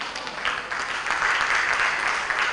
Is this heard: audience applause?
yes